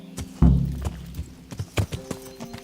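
Horse hooves clip-clopping in Kingdom Come: Deliverance, a heavy thud followed by several irregular hoofbeats up close, with a soft background hum.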